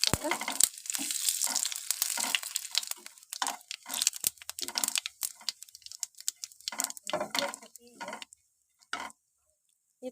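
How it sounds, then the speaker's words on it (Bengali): Cumin seeds hit a little hot oil in a pan and crackle and sizzle in irregular bursts that die down toward the end, with a person speaking over the cooking. "এবার সামান্য পরিমাণ তেল দিয়ে দেবো বেশি তেল দেওয়ার দরকার হবে না অল্প তেল দিলেই হয়ে যাবে তো এবারে দিয়ে দেবো কটা জিরে"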